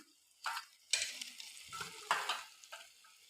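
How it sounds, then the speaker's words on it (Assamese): Chicken meat hits a hot pan for murgi bhuna and fries, giving several sharp bursts of sizzling with stirring scrapes between them, close and fairly quiet overall. "এতিয়া মই ইয়াত মাংস দি দিম।"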